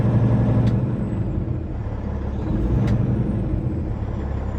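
A 2020 Peterbilt 389 heavy daycab with a wet kit idles while warming up, not yet at operating temperature. Its engine gives a steady, close, low diesel rumble with two brief airy hisses partway through, and no voices.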